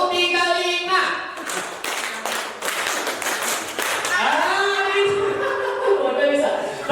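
Rhythmic hand clapping in a classroom clapping game, short groups of claps in counted bursts under an adult voice calling out counts and children's voices.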